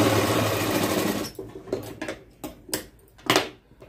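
A sewing machine stitches a blouse side seam, first in a fast continuous whirring run, then in short separate bursts of stitching with pauses between them, close and clear.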